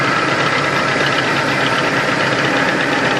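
A 1996 Chevrolet S10 single cab idles after a cold start on a cool morning, its engine running in a steady, loud, close-up drone with a faint knocking rhythm throughout.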